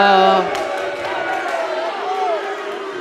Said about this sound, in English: Wow, hear the boos here.